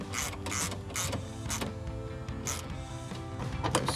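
Fasteners being tightened on the chrome upper grille of a 2007-2013 GMC Sierra truck, giving close mechanical ratcheting and clicking bursts with plastic creaks and a low background hum, without speech.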